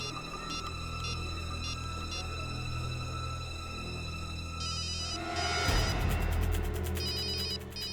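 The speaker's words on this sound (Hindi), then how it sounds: "फोन की आवाज तो यहीं कहीं से आ रही।" A telephone rings repeatedly in a tense, eerie horror-drama scene, its electronic ring pulsing in short regular bursts over a dark, droning background score that swells near the end.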